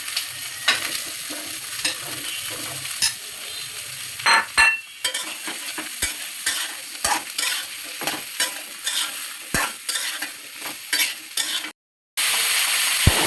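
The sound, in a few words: cut eggplant frying and being stirred with fried garlic and onion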